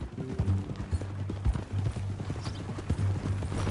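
Horse hooves clip-clopping in the Red Dead Redemption 2 video game, a steady close trotting rhythm of clear hoof strikes, with no talk over them.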